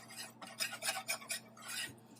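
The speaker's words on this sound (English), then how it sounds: "you're just going to want to whisk this for about 4 minutes" A whisk scraping and rattling against a pan as flour and butter are mixed into a roux for beef sausage gravy, a quiet run of rhythmic strokes over a faint steady hum, with no voices.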